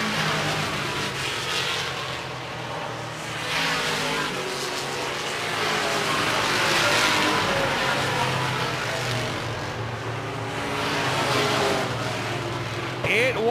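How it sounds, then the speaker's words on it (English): Race cars roar continuously around a dirt oval during a three-lap shootout at Seven Rivers Racing, their engines droning loud and steady under a track announcer's commentary. "We've got ourselves a 3-lap shootout with Steve Bachman and Nick Clements."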